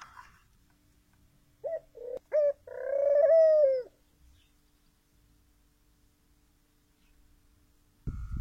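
Pigeons coo in an aviary: a few short soft calls, then a longer rolling coo, all fairly faint in a quiet space, followed by silence and a brief low rumble at the end.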